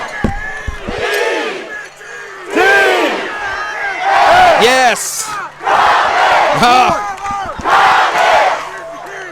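A football crowd roars and chants in loud surges around the stands at a 4-A varsity high school championship game, with people talking nearby amid the noise.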